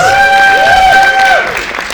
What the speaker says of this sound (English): round of applause to Gianluca, please